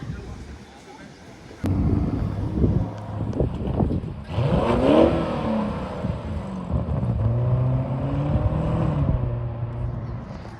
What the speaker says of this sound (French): ça met des coups de gaz avec un Urus